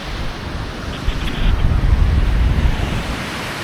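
Sea waves surge and wash at Layan beach, a steady broadband roar of surf that swells louder midway and then eases, with wind rushing across the microphone and no voices.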